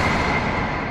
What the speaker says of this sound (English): the very first thing you hear in the song is this reversed sample